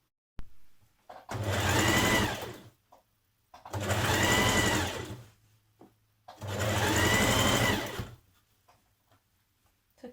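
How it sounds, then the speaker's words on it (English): Sewing machine stitching the side back to the centre back of a Simplicity 1254 coat, three sustained runs of rapid, even whirring stitches separated by short pauses, close and fairly loud with no talking. "Now you're going to stitch your side back to your centre back."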